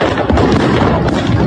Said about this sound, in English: gunfire has now erupted